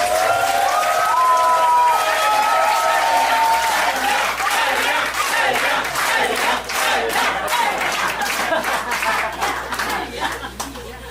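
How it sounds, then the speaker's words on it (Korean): An audience at a Daegu hall opening ceremony breaks into loud, sustained applause as a presenter is welcomed, with dense clapping, scattered cheers and laughter, then thinning into individual claps toward the end. "큰 박수로 알량님을 맞이해 주시기 바랍니다."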